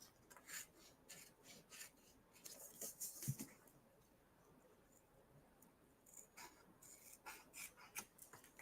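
Paper envelope being trimmed around its edges, giving faint, soft rasping cuts in short irregular bursts, with a quieter pause midway before the scratchy cutting resumes.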